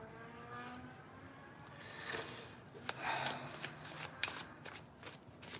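Playing cards are shuffled and handled at close range, with brisk riffling bursts and sharp snapping flicks in quick succession over a faint steady background hum, no talking.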